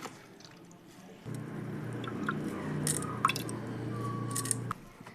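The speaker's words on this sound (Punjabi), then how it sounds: "ਇਹਨੂੰ ਚੰਗੀ ਤਰ੍ਹਾਂ ਦੇ ਨਾਲ ਦੱਬ ਦੱਬ ਕੇ ਇਹਦੇ ਵਿੱਚੋਂ ਜੂਸ ਕੱਢ ਲਵਾਂਗੇ" Juice being squeezed by hand through a strainer at home, a steady wet squishing and dripping that runs for several seconds, close and fairly quiet, with no talking.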